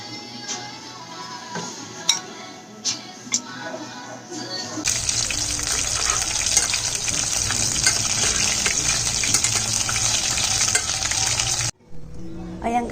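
Tawilis fish go into hot oil for deep-frying; after a few clinks and taps, a loud, steady sizzling crackle erupts and continues close up, then briefly cuts out near the end.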